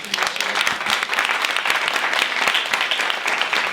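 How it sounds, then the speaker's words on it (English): Audience at a Dragons' Den-style pitch event gives a round of applause, lively close clapping from a modest crowd with a few distinct hand claps standing out. "And do give a hand of applause."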